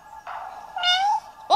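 A cat meows in the video game Five Nights at Barstick, a single clear drawn-out meow rising in pitch over a faint background hum, with a second call just beginning at the end.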